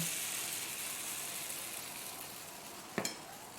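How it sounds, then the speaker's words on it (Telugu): Multigrain dosa batter spread on a hot pan gives a steady, even hiss that fades slightly, then a couple of sharp clicks near the end. "దోసపిండి మధ్యలో వేసుకుని మంచిగా రౌండ్గా తిప్పుకోవాలండి."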